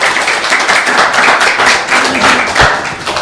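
Close, lively applause from a small audience after a spiritual class, a dense patter of hand claps running steadily throughout with a few louder nearby claps standing out.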